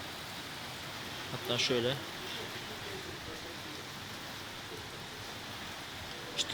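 Steady summer rain in Germany hisses softly in the distance, a continuous wash of noise, with a brief voice speaking over it partway through.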